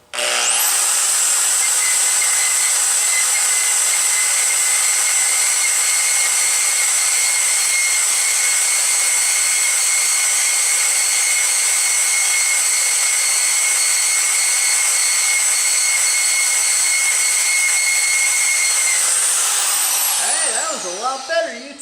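Milwaukee portable bandsaw cutting 1-inch solid round steel stock, a loud steady close whine with a high metallic ring that holds constant for about twenty seconds before the blade breaks through and the motor winds down.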